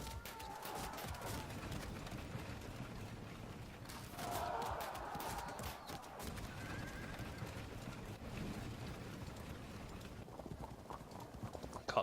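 Cavalry hooves clatter in a continuous dense clip-clop from a Field of Glory 2 battle, with occasional horse whinnies rising over the steady trampling, fairly loud throughout with no talk.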